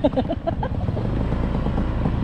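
A motorcycle rolls along a rough, potholed village road in Nasugbu, Batangas, its engine a steady close rumble after a brief patter of clattering bumps at the start.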